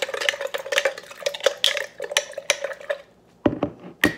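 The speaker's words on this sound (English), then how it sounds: "And then I'm just going to mix that up really, really good." Venison being mixed by hand in a bowl for canning, a run of soft, uneven stirring and clinking strokes at close range, followed by a brief pause and a few sharper knocks near the end.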